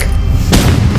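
Gunfire in a shooter video game: a loud, close burst of shots erupts halfway through, cutting in over a steady low rumble of game ambience.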